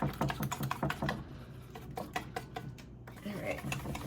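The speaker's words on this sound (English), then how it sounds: "you want to whisk it up nice and well so you don't have any lumps in here." A whisk clicks briskly against a bowl as manicotti batter is beaten by hand, a run of quick, sharp taps with short pauses, close and fairly loud.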